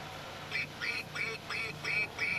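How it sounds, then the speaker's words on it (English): A duck at the entrance of a farm greenhouse quacks six times in a quick, even rhythm, fairly near but soft, with no talking over it. "you're welcomed by my welcoming duck here that quacks as you come into the greenhouse"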